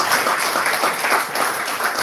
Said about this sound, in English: Let's put our hands together and give a round of applause